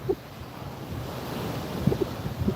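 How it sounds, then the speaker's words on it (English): Wind gusting at the seaside during a fishing outing, a steady broadband rush with low rumbling buffets on the microphone and surf in the background, continuous and fairly loud with no voices. "It's a bit windy here"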